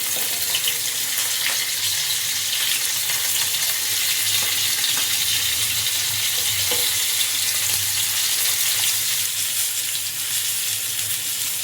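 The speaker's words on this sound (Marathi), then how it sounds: "आता आपण हे फिश टाकून घेऊया तेलावर।" Bangda mackerel fries in hot oil over a high flame, giving a loud, dense and unbroken sizzle that runs steadily from start to finish with no voices.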